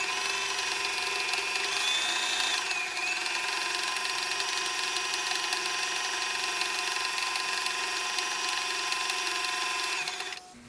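A sewing machine stitches across fabric for a simple tunic, running in one steady, close, continuous whir that holds for about ten seconds before cutting off, with no talking.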